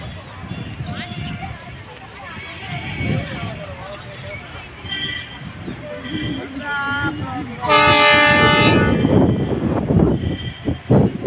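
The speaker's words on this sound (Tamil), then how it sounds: "எங்கள் ஊருக்கு ட்ரெயின் வந்துருச்சு." A train rumbles past in Theni, Tamil Nadu, with a loud horn blast partway through, while people talk and shout nearby over the clatter.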